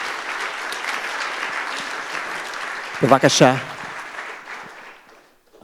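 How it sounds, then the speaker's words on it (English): An audience at an evening memorial program in a temple gives a round of applause. Dense, fairly soft clapping fills most of the stretch, is briefly masked by a spoken word, and then fades out toward the end. "please give them one more round of applause"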